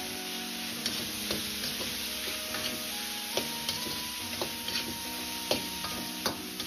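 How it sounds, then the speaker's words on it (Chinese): Cauliflower florets stir-fried in a hot wok, with steady sizzling and the repeated scrape and clack of a spatula tossing the vegetables, close and continuous, no talk. "把花菜炒上颜色，大概20秒钟，再倒入切好的橡胶圈"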